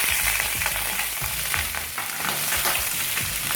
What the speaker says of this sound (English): and then we stir it well